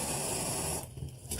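A spray water bottle gives a continuous hissing spray that cuts off after about a second, followed by a brief second burst, close and fairly quiet.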